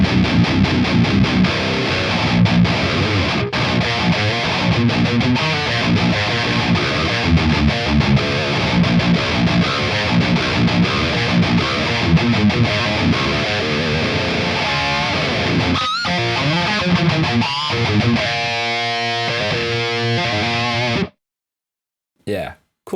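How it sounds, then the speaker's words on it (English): Electric guitar played through the Nembrini Crunk version 2 high-gain amp simulator, heavily distorted chugging riffs and sustained chords, loud and continuous, ending with a brief cutoff and a short final hit. "So this is Crunk version 2 by Nembrini, another great high gain amp sim for free."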